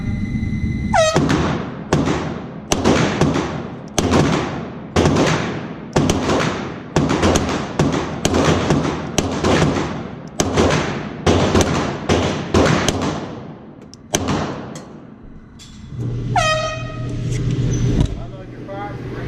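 Pistol gunshots ring out at an indoor GSSF shooting match, a long run of loud, sharp reports fired in rapid, uneven bursts with echoing tails, and a range officer's voice calls out between strings.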